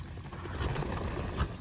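A horse at a show shakes itself off after rolling on the ground, a close, steady rustling flurry of body and tack noise lasting the whole moment, with faint snorting and a voice in the background.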